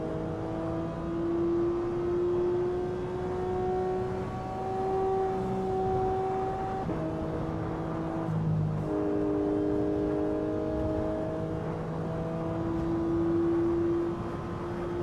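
A race car engine in the Assetto Corsa EVO racing game holds steady, sustained tones under partial throttle, shifting pitch between gears with no talk over it.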